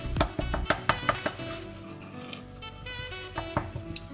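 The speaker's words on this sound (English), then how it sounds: "Let's stir it up." Carrots and other vegetables simmering in a pot with tomatoes, stirred with a utensil: a string of close knocks and scrapes against the pot over a soft sizzle, then quieter bubbling and a few more clinks near the end.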